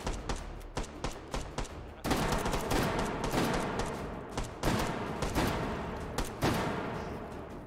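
Rapid volleys of gunfire in the VR shooter H3VR during a take-and-hold round against hot dog enemies, sharp close shots in quick bursts that blur into a sustained fusillade after two seconds, then sporadic cracks.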